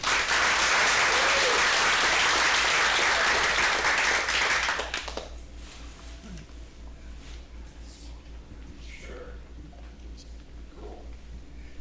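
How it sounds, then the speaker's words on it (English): An audience at a real estate talk breaks into loud, dense applause that fills the room for about five seconds. It then drops away abruptly, leaving a quieter room with faint scattered voices. "give him a round of applause,"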